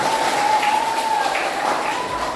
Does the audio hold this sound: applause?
yes